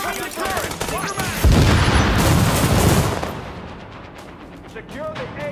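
Heavy gunfire erupts in The Division, a loud dense burst of shots and booms in the middle after shouted voices, then fading to scattered lighter shots.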